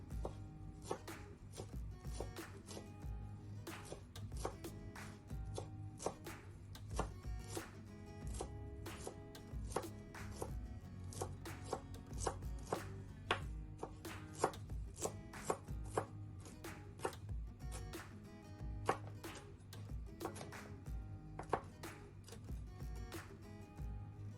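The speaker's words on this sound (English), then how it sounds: "Make sure to also chop the corianders." Fresh coriander chopped with a knife on a cutting board, a rapid, steady run of sharp, close chops that keeps going without pause, heard quietly and alone with no talking.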